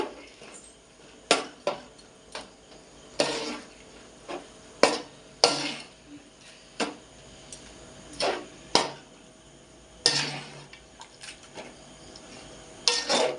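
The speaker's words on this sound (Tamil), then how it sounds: "இனி ஒரு கிண்டும்." A spoon stirring salted mutton curry in a pot, a series of separate metallic scrapes and clanks against the pot's side at an irregular pace, fairly close and with no talking.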